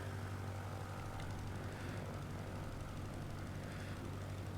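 Propeller aircraft in Microsoft Flight Simulator rolling down the runway at Fairbanks International, Alaska, a steady dense engine drone with airscrew buzz that stays constant and close, with no talking.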